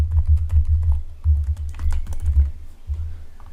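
Card details being typed on a computer keyboard, close and fairly loud, as quick irregular key clicks and soft thumps in bursts with brief pauses.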